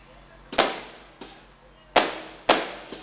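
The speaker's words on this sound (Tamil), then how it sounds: "அந்த வெடியெல்லாம் போடாதீங்க" Firecrackers go off at a village gathering near Pudukkottai in Tamil Nadu: four sharp, loud bangs at irregular intervals, each decaying quickly, followed by a smaller pop, with no voices.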